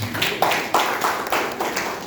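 An audience claps together at a school principal inauguration ceremony for SMK Bhakti Praja Batang, a steady run of overlapping claps with rhythmic accents, moderately loud and continuous.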